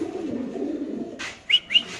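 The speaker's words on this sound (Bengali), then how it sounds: "হাতে আছে এক পিস কবুতর আপনি দেখতে পাচ্ছেন একটা রেসার কবুতর" A female Tiger Grizzle racing pigeon held in the hand gives a low, soft coo, then two short, sharper calls close by near the end.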